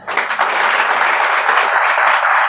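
A crowd at a talk on competitive exams breaks into loud, dense applause that swells quickly and holds steady, near and full, with no voices over it.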